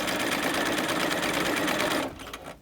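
Sewing machine stitching piping with very short stitches, a steady close mechanical whir running continuously for about two seconds before cutting off.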